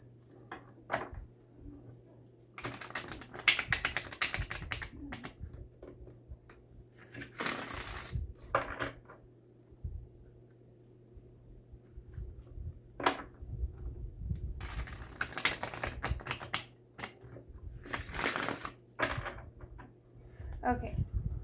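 A tarot deck is shuffled close up in several separate bursts of crisp card riffling, with quiet pauses between them.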